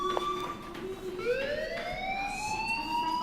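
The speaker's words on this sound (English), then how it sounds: "Hey, do you hear that fire alarm? That means you should be outside." A fire alarm sounds inside the video game Life is Strange, a steady electronic siren tone that sweeps upward midway, ringing continuously and fairly loud with no talking over it.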